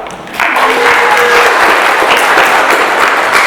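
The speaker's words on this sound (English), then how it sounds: "You may clap." Audience applause at an improv student showcase in a community arts center, starting abruptly after a brief quiet moment and continuing as dense, steady clapping from a full room, loud and even throughout.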